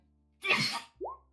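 A single sharp human sneeze, loud and close, with a burst of breathy noise followed by a short voiced tail, set against a quiet background during a tabletop role-playing game session.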